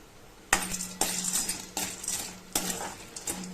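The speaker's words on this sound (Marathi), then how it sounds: "त्याच्यामध्ये छान असे परतून घेणार आहे" Dried lentil dumplings (sandge) stir-fried in oil in a pan: five sharp metallic clanks of a spatula striking the pan at uneven intervals, each trailing off into a soft frying hiss, close and clear.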